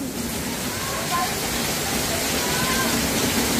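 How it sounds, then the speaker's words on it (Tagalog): Heavy rain pours steadily outdoors in Vigan, a dense, even hiss of downpour that stays loud and close throughout without a break. "Ayan, ang lakas po ng ulan, no?"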